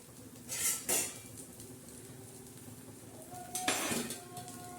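Millet-and-coriander flatbread being flipped on a hot griddle, with two soft bursts of clatter and scraping against a faint background hiss and hum, then a third, brighter scrape a few seconds later.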